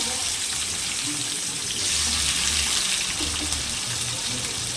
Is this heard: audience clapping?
no